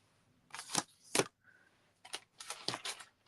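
Scissors snipping paper scraps for handmade greeting cards, several crisp close cuts in two short clusters, quiet and alone in a calm room.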